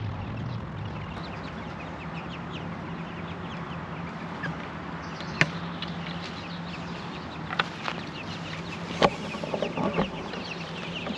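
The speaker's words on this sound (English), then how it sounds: "We got a wee little chicken out, and I have no idea how she got out." A small hen that has escaped from the chicken area clucks outdoors on a farm, with soft, scattered clucks and occasional sharper calls over steady outdoor background noise.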